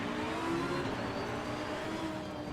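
A race car in a racing video game accelerates on cold tires and brakes, its engine giving a steady, rising whirring drone with a constant level throughout, no talking over it.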